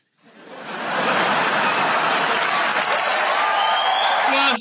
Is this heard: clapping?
yes